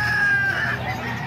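A rooster crows in a farm setting, a loud, close, sustained call running the full length, with a raspy, strained tone and no talk over it.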